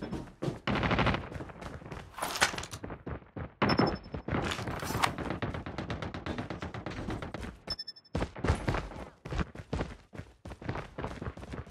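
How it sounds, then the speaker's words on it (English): An automated sentry gun fires in a Call of Duty-style multiplayer shooter, dense rapid bursts of gunfire with short gaps and thumping impacts, loud and continuous across the stretch with no talk over it. "Sentry gun deployed."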